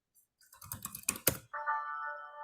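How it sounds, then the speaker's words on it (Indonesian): Quick bursts of typing on a computer keyboard, a run of close, crisp key clicks, followed by a short sustained electronic tone. "Lagi ngetik."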